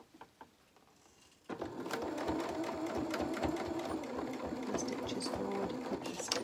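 A sewing machine stitches a seam on small doll-sized boxer shorts, starting after a quiet moment and then running steadily and close with a rapid mechanical chatter to the end.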